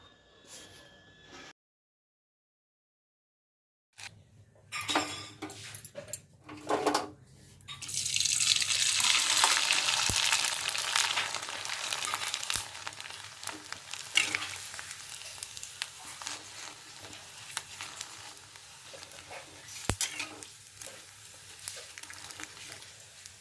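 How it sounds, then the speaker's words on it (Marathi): Rice kurdai fryums, made from ration rice, sizzle and crackle in hot oil. After a brief silent gap the frying swells into a loud, steady, close hiss that carries on to the end, with no voices. "चार पाच तरी कुरवड्या तुम्हाला अशा मी तळून दाखवणार आहे"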